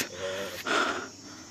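A person pants heavily after climbing up to a viewpoint at the Kakamega Crying Stone, with close, breathy gasps and one stronger exhale midway.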